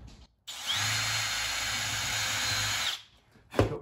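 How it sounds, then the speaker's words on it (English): A power drill bores a slightly oversized pilot hole through the top piece of timber for an overhead van cabinet, whining steadily and loudly for about two and a half seconds before stopping, with a brief clunk after. "I'm using a drill bit that is slightly bigger than the screw through this top piece of timber"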